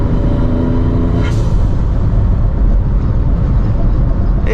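A tuned VW Up TSI Stage 2 accelerates loudly and up close, its engine a thick, constant roar with a sharp pop or burble about a second in, and no talk.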